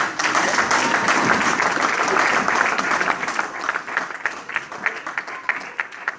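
Church congregation applauding and cheering for God, dense sustained clapping that thins into more distinct, rhythmic claps toward the end, loud and close, with voices mixed in.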